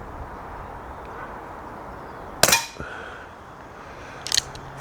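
A Snowpeak PP20 .177 air pistol fires a single sharp, close crack, then a short metallic clatter, and a fainter second snap follows about two seconds later over steady room hiss.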